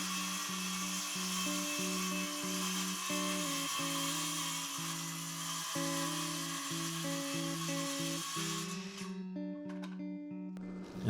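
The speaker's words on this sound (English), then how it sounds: "Now here I'm cutting the bottom shelf square along the back edge" A power tool squares the back edge of a live-edge timber shelf with a steady, loud whining drone that runs continuously, then cuts out near the end.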